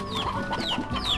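A briar hen in the Slime Rancher video game clucks three times in quick succession, each a short chirpy rising-then-falling note, close and clear over light game background.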